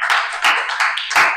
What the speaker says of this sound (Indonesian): Tepuk tangan untuk Burhan.